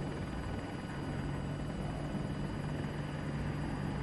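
An Apache attack helicopter in Battlefield 2042 makes a steady, loud rotor drone with a continuous whine, holding constant throughout with no talk over it.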